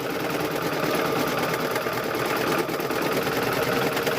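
Sewing machine running a stitch across a chicken quilt in one continuous loud, close whir with a fast, even mechanical buzz.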